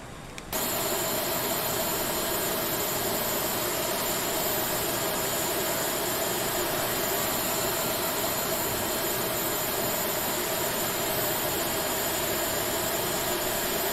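An Airbus A320 jet engine spools up in the Prepar3d flight simulator game, a loud, continuous broadband roar and whine that sets in abruptly and holds steady throughout.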